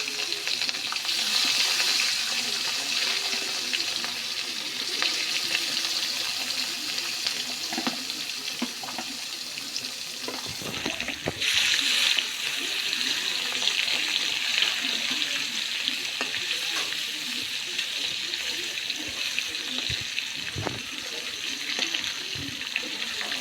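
Fish frying in hot mustard oil in a kadai, a steady close hiss and sizzle with bubbling and occasional stirring clatter, continuing evenly throughout with no talk.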